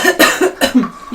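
A fantasy adventurer coughs from scraping, poisonous air in the lungs, giving a few harsh, close coughs in quick succession.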